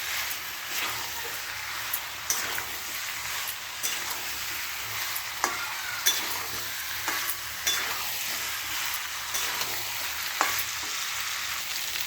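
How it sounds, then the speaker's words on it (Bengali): Boiled potatoes stir-fried in oil in a pan, a constant bright sizzle with frequent clicks of the spatula scraping and turning them, close up and without any voices. "আলুগুলো দিয়ে ভালো করে কষে নেব।"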